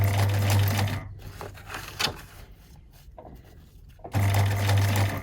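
A sewing machine stitches fabric pleats for a collaged fabric journal, running in a loud steady whir for about a second, pausing amid quiet handling of the cloth, then starting up again near the end.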